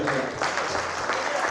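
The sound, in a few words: audience applause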